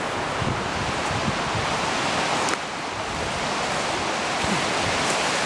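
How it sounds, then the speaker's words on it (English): A high, fast-flowing river at the confluence of the Willamette and Tualatin rivers rushes in a steady, loud broadband roar, with gusty wind buffeting the microphone throughout. "the high and fast flowing river"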